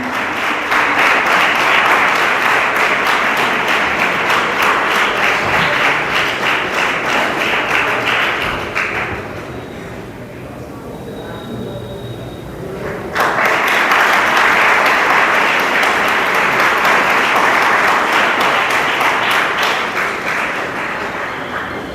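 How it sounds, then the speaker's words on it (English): Loud, dense applause from an assembled audience at an NCC camp ceremony honouring officers, sustained clapping that dips briefly midway before surging back at full strength. "Applause for ma'am."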